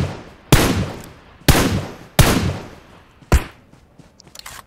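Four single gunshots ring out in the mobile battle-royale game PUBG Mobile, loud and close with each shot's sharp crack decaying into a short echoing tail, spaced about a second apart, followed by faint clicks.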